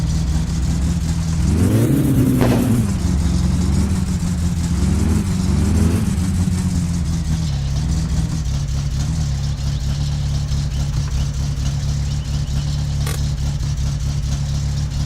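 Car engine in the My Summer Car video game with a carburetor needing tuning, revving up sharply twice near the start and then settling into a steady, loud, droning idle with no talking.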